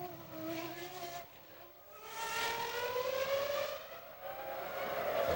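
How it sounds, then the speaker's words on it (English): A BAR Honda Formula One car at Monaco practice in 2001 screams past, its engine note stuttering and ratcheting under traction control, rising pitched harmonics dropping briefly then climbing again, loud and close with no talk. "The car ratcheting on traction control."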